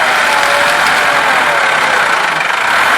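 A loud, steady engine drone runs throughout without pause, a Massey 385 tractor labouring at constant power with a rough, slightly knocking texture.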